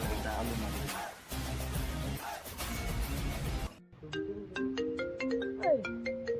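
A mobile phone ringtone plays a bright electronic melody of quick tonal notes, loud and near, right after a stretch of background music, with no talking over it.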